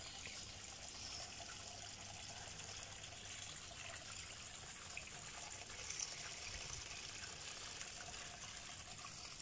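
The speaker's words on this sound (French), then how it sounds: "on entend le doux bruit de la cascade." Small garden waterfall, a faint, steady splashing and trickling of water heard quietly and continuously in an outdoor garden.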